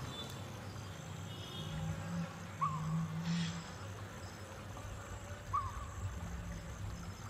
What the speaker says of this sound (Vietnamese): Bầy ruồi nước mặn tụ tập trên thảm tạo nổi để kiếm ăn.